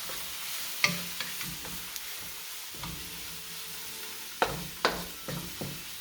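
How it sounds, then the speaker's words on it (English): Cantonese soy sauce noodles sizzling in a pan while being stirred, a soft steady fry hiss broken by scattered utensil clinks and scrapes, close and fairly quiet. "give that a little stir, make sure everything's still in there"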